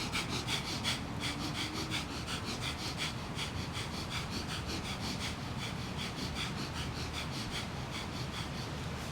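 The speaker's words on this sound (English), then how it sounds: "Start your breath of fire." Kundalini yoga breath of fire: rapid, rhythmic, forceful nasal breaths pumping in a steady fast pulse, quiet and close, continuing evenly throughout with no talking.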